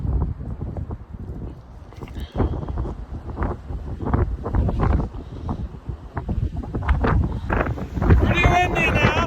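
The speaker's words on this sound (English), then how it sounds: "Pretty windy now." Strong gusty wind on a Catskills mountain hiking trail buffeting the microphone in loud irregular bursts, with a person speaking intermittently through it.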